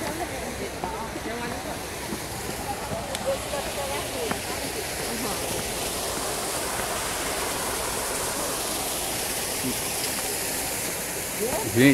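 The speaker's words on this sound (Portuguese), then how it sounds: "A cachoeirinha aqui natural." A small natural waterfall beside a wooden staircase at the giant Buddha statue site in Ibiraçu, Espírito Santo, gives a steady, close rushing of falling water that runs unbroken from start to finish.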